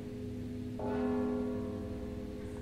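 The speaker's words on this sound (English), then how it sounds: "Don't you hear the bell?" A single bell in the video game Mark of the Ninja strikes once and rings out with a sustained, steady tone that slowly decays, fairly faint and heard alone.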